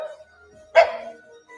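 A corgi puppy gives a single short bark, close and clear, with faint yips and whines before and after it.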